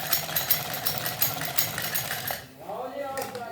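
A sewing machine stitches a pocket onto a pair of pyjamas, running in a dense, steady whir for about two seconds before it stops and the room falls quieter.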